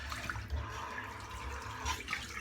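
Water runs steadily from a tap onto a wet shaving brush, a soft continuous splashing trickle with no voices.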